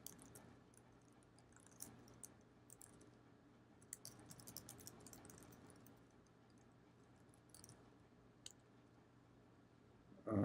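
Quiet typing on a computer keyboard, scattered keystrokes and clicks in short bursts with pauses between, close and soft against a faint steady hum.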